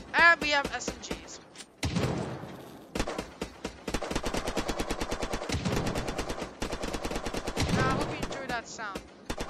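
SMG fire in the video game Unturned: long, dense strings of rapid, evenly spaced shots, loud and close, with short breaks between bursts and a person talking briefly at the start and toward the end.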